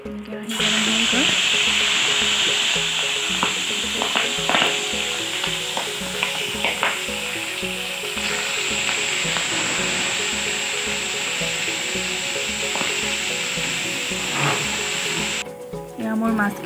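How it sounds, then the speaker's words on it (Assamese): Singi fish frying in a hot wok in an Assamese kitchen, a steady loud sizzle running throughout with scraping stirs and small clatters, while someone talks intermittently over it. "এয়া মোৰ মাছখিনি ভজা হৈ গ'ল"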